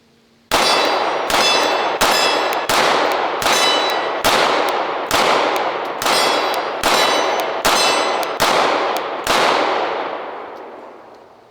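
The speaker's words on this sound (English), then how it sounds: "This time I'm not gonna just mag dump, I'm gonna slow fire just to see exactly what we've got going on here." About ten sharp, loud pistol shots from a PSA Dagger Compact Glock-style handgun fed from a Pro Mag magazine, slow-fired at a range with cheap ammunition. The shots are evenly spaced under a second apart, and each ringing report fades before the next.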